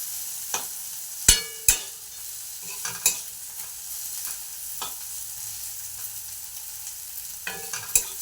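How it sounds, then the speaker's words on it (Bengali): Bitter gourd fries slowly in a pan until crisp and reddish, giving a quiet, steady sizzle with scattered sharp clicks and scrapes from stirring, and no voices. "একদম লাল লাল করে ভেজে নিচ্ছি, যাতে খরা খরা যেটাকে বলে সেরকমই ভাজছি উচ্ছেটাকে"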